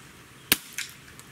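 A single sharp crack of a Beeman R7 spring-piston air rifle firing, followed by a fainter pellet impact or mechanical knock a moment later, close and otherwise quiet.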